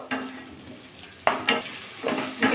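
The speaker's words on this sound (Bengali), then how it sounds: "আলু দিয়ে মশলা একটু কষিয়ে নেব।" Potatoes and spices are stirred and fried in a pan after mashed tomatoes go in, with soft sizzling broken by several sharp scraping stirs of a spoon against the pan.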